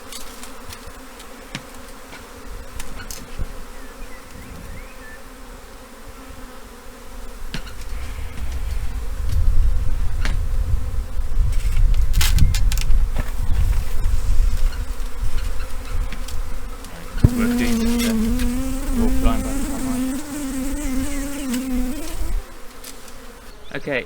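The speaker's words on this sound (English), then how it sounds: "there's still a few bees who are still refusing to come down up there" A honeybee swarm buzzing around a tree in the evening, a dense, continuous drone of many wings close by, swelling louder in the middle, with a sharper, higher-pitched buzz passing near the microphone toward the end.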